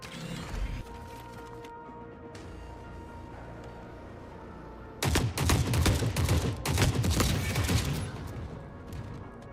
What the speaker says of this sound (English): God, I love the kill sound in this game